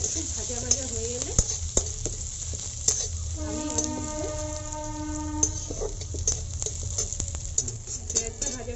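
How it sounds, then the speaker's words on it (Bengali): Chopped onion frying in hot oil in a pan for a Bengali taro leaf dish, giving a steady close sizzle throughout with occasional sharp clicks and stirring scrapes, and a brief tonal hum in the middle. "পেঁয়াজটা ভাজা ভাজা হয়ে এসছে।"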